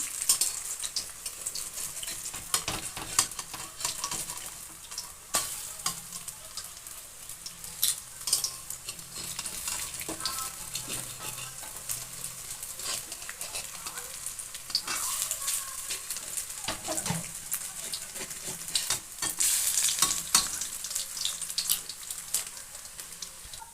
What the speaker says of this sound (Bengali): হালকা আছে বড়াগুলো ভাজতে হবে যাতে মুচমুচে হয়।